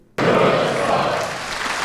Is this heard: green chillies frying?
no